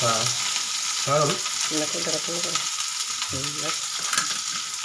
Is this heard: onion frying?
yes